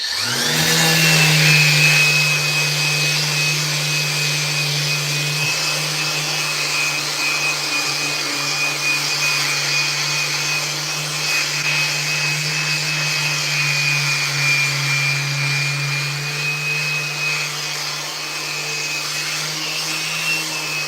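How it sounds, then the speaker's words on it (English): A Festool dust extractor runs steadily at close range while a skateboard is shaped in a workshop, giving a continuous loud motor whine with an airy rushing hiss and no talk over it. "this is hooked up to a Festool vacuum"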